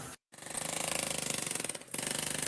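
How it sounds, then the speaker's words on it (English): A hammer drill works on a car, giving a fast rattling hammering buzz that cuts out briefly near the start, then runs steadily up close with another short dip. "Hammer drill, yeah."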